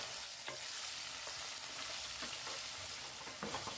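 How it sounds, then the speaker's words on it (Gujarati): Steady crackling sizzle of stuffed spiny gourds (kantola) stir-frying in hot oil, with occasional soft scrapes of a spatula turning them; no voices. "આપણે કંટોલાને આવી રીતે 1 મિનિટ સુધી તેલમાં ફેરવશું"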